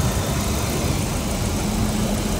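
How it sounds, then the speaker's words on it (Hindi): Kia Cerato idling with its AC compressor running, a loud, steady mechanical hum and vibration recorded close to the engine, no talking. "कंप्रेसर चल रहा है"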